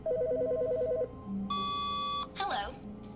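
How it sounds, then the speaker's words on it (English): A telephone rings in The Stanley Parable video game, a bright repeated electronic ring in short bursts followed by a steady tone, with a voice speaking over part of it. "Why is there a phone ringing?"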